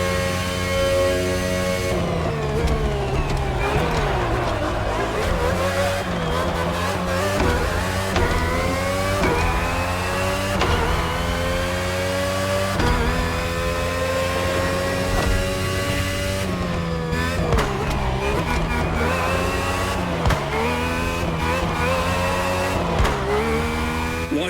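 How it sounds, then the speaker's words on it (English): A Red Bull RB18 Formula race car with a Honda engine, driven in the video game The Crew Motorfest, screams through repeated high revs and gear shifts, its pitch sweeping up and dropping sharply, loud and continuous with no talk. "RB18 is the latest model, with more aggressive aerodynamics and a powerful Honda engine."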